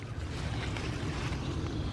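A garden hose sprays water over squash plants in a vegetable garden, a soft, steady hiss of water hitting leaves and soil that runs unbroken the whole time.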